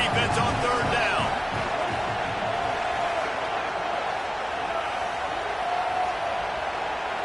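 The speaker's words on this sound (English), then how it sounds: "Decibels rising as the crowd gets behind this defense on 3rd down." A football stadium crowd roars steadily on third down, a dense wash of cheering that holds loud throughout, with a commentator talking over it.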